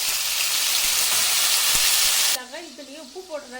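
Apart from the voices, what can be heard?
tomatoes added to hot oil sizzling for rasam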